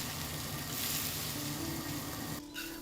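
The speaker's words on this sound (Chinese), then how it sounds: "鸽子肉飞水炒至8成熟。" Pigeon meat stir-frying in a wok, a continuous close sizzle with bright hiss that shifts in tone as the pieces are stirred, ending in a brief scrape before the frying carries on.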